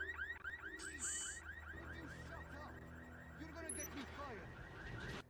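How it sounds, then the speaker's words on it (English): Car alarm set off in the 007 Blood Stone video game, a repeating electronic siren of chirping, wobbling tones cycling through its patterns, heard faintly over a low game hum. "We hack a car alarm and set it off."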